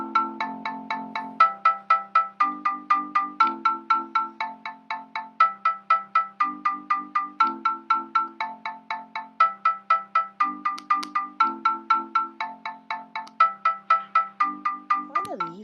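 A chord progression plays on Chrome Music Lab Song Maker as clean, synthetic plucked notes in a steady repeating pattern. Block chords change every couple of seconds, sound close and alone, and end with a short pitch-bending tone.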